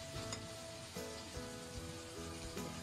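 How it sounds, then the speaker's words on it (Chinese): Yardlong beans being stir-fried in a wok with Sichuan pepper powder, salt, oyster sauce and soy sauce: a faint, continuous sizzle and scraping heard beneath louder background music. "再快速的翻炒均匀，炒出调料的香味儿"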